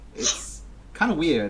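A sneeze bursts out near the start, a short breathy snort-like gasp, followed by a voice speaking close to the microphone.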